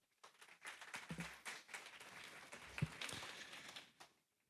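Audience applause welcoming speakers onto the stage at a French digital-industry morning conference, a burst of clapping lasting about four seconds at moderate distance and then fading out.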